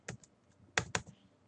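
Values entered on a computer keyboard for ANSYS material settings: a few sharp, close key clicks, one early tap and then two quick presses near the middle, in near silence.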